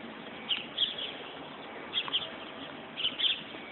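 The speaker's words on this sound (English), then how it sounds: "It's the bravest bird I've ever seen." Small bird standing still in an outdoor street setting, giving three short pairs of high chirps spaced about a second apart, moderately close against a steady background hum.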